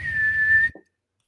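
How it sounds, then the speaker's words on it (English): A sharp, shrill train whistle sound effect sounds as one steady, piercing tone for well under a second, then cuts off abruptly with a brief faint trailing blip. "It's gonna be a sharp, piercing, shrill train whistle."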